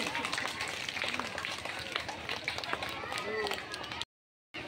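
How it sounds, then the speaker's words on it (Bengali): Audience clapping at a school annual cultural and welcome function, a steady, dense patter of many hands filling the room, with voices mixed in, before it cuts off abruptly near the end. "সৌরভের জন্য একটা জোর হাততালি"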